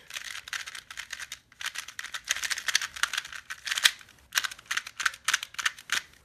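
Rapid plastic clicking and clacking of a Yuxin White 2x2 puzzle cube being turned quickly, in bursts with brief pauses, close and crisp.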